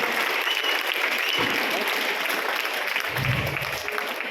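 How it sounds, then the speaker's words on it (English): A crowd claps steadily and loudly throughout, a dense wash of applause that carries on without pause. "So can we clap for all the engineers here?"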